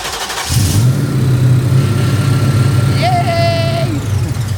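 RB200 car engine with exhaust cranking and catching, then settling into a loud steady idle up close, with people talking briefly over it.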